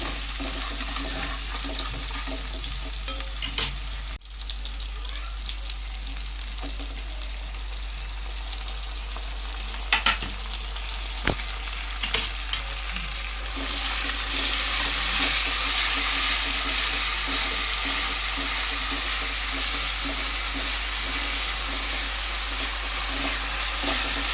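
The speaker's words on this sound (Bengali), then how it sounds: "এখানে কিছু সরু সরু করে কুচিয়ে রাখা পেঁয়াজ দিয়ে দিলাম" Thinly sliced onions sizzle in oil with spices for a Bengali mutton curry, a loud continuous hiss that swells slightly in the second half, with a few scattered clicks and scrapes; near and steady, no voices.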